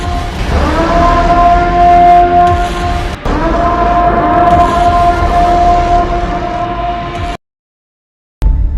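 A loud siren wails in long sustained tones, briefly breaking off and starting again, then falls silent before a short burst returns.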